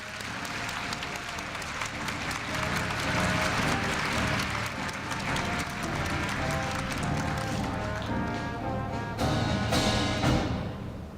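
Sustained applause from a large audience at a 2015 Korea University freshman entrance ceremony, loud and continuous for the whole stretch with a few sharper claps near the end.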